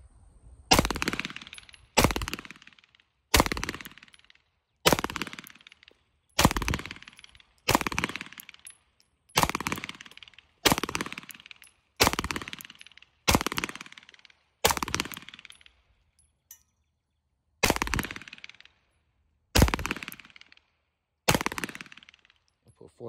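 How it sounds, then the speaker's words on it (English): A Springfield Hellcat Pro pistol fired outdoors, a series of about fourteen loud, sharp shots spaced roughly a second and a half apart, each with a short decaying echo, and no talking. "I'm gonna just get a couple of shots off."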